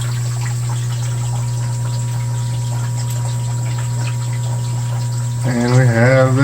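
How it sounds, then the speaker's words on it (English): Water runs steadily into an aquarium tank during a water change, a continuous rushing flow over a low, constant pump hum, with a voice briefly rising near the end. "And now we are filling up water."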